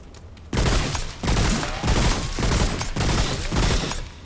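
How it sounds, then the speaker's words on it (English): Three-round-burst sniper rifle fire in the action shooter Remnant: From the Ashes, a series of loud, close bursts repeating roughly every half second to second, dense and punchy with a faint rising whine between volleys. "It's a 3-burst sniper."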